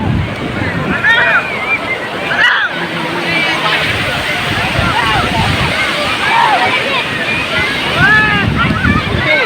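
Sea surf rolling in at Baga Beach, Goa, a steady broadband wash with wind buffeting the microphone, while a busy crowd chatters and voices talk nearby throughout.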